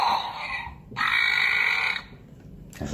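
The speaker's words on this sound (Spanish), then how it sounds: "solo es un eructo" A Hot Wheels T-Rex Takedown toy dinosaur lets out a loud electronic burp, a long raspy croak that swells for about a second and then cuts off.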